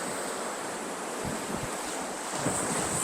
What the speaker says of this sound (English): The water's trying to splash me.